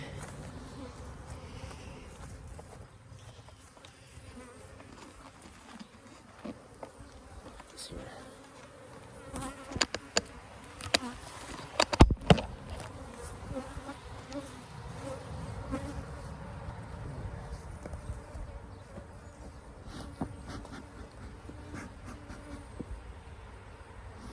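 Honeybees buzzing steadily around an opened, queenless hive as it is smoked and its frames are worked, a dense close drone with scattered knocks and handling noises, and a voice speaking now and then.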